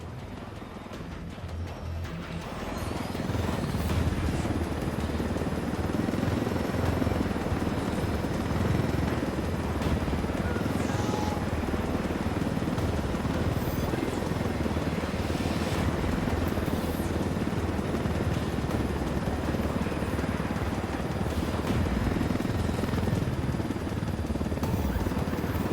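A helicopter flies in the Ghost Recon Wildlands video game, its rotor roar rising after a short quieter moment and then holding steady and loud for the rest, with no voices.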